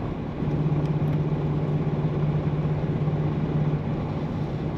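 A low, steady engine rumble from a 1993 Chevrolet C1500 extended cab pickup's 4.3-litre V6, idling close by, with a constant deep hum and no speech.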